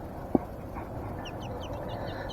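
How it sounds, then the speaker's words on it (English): Bantam chickens about four to five weeks old, giving soft, faint clucks and small chirps over a low background murmur, with one sharp knock or peep near the start. "they're already bantams. So they're already small chickens."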